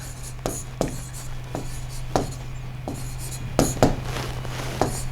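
A pen works out a physics formula on paper in quick, distinct scratching strokes and taps, close and fairly crisp, with short pauses between bursts over a faint steady hum.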